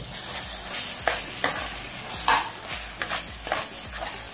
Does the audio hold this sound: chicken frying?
yes